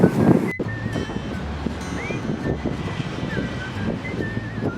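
Wind buffets the microphone at a beach, a steady low roar with surf-like rumble and no talk.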